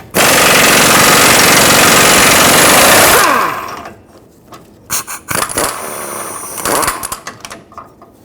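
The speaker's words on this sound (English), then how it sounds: "Use a 27mm socket and remove this bolt from the bottom." An impact gun hammers loudly and continuously for about three seconds while loosening a lower control arm bolt with a 27mm socket on a 2003-2012 Chevrolet Colorado 4x4, then cuts off, followed by scattered clanks and metallic handling.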